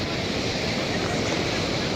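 Surf washing in at Calangute beach in Goa, a continuous broadband roar of breaking sea waves mixed with wind rumble, steady and fairly loud throughout with no clear individual breaks.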